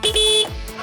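A toy excavator's electronic horn gives one short, bright, buzzy beep close up, followed by a brief fading tail.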